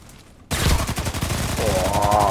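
Rapid bursts of automatic gunfire in the online shooter Contract Wars, loud and sustained after a brief quiet start, with dense overlapping shots and no talk.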